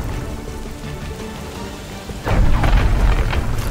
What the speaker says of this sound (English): I'm not sure how much damage the storm does to you when it zaps you